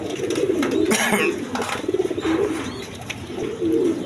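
A pair of Pakistani Peyashri pigeons with a chick coo steadily and close by, with low rolling calls repeating in waves and no voices.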